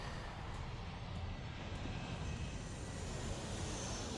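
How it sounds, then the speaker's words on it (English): Several planes roaring in overhead on their approach to land, a dense, steady broadband engine rumble that stays loud and even throughout, no talking. "Now this is crazy how they're showing like all of these planes trying to land."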